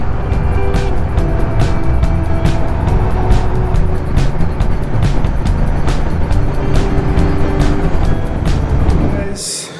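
A Triumph Speed Twin motorcycle cruises at an easy pace, its engine humming steadily up close under strong wind rush, with regular thumps throughout and talk mixed in.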